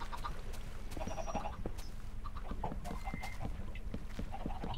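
Chickens on an automatic chicken farm in Minecraft cluck and squawk continuously, many birds overlapping in a busy, steady chatter at moderate loudness, with no talking.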